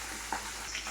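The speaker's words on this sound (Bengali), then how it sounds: "এদিকে মাথাটাও প্রায় ভাজা হয়ে এসছে।" A fish head fries gently in oil in a pan on a low gas flame, giving a soft, steady sizzle with small crackles.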